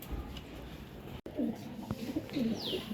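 Pigeons perched on a rooftop give a few soft, low cooing calls against steady outdoor background noise, with a brief high chirp near the end.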